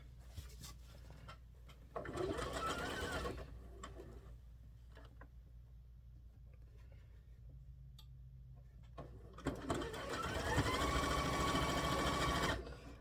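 A sewing machine stitches a fabric table topper in two bursts of rapid, steady needle rhythm separated by a quieter pause, with nobody talking.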